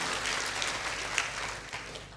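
A church congregation applauds during a Sunday service, a continuous moderate wash of clapping from many hands with a few sharper claps standing out.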